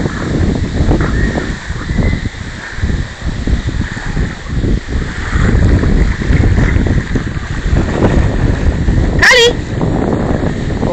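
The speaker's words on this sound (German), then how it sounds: "Oh, ordentlich Welle heute, ne?" Rough sea on a stormy day at a swimming spot: loud continuous wind buffeting and crashing, churning water fill the scene, with a brief high whistle-like cry near the end.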